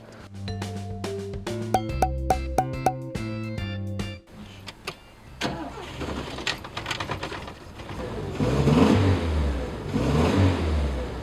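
A Volvo P1800 convertible's engine revs and pulls away, a mid-pitched rising drone following clicks and music, close and moderately loud.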